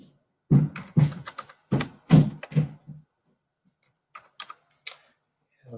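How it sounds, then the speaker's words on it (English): Clusters of keyboard typing, with bursts of key clicks in the first half and a few sparse, fainter keystrokes afterward, heard close up. "I'm still doing a little bit of typing here"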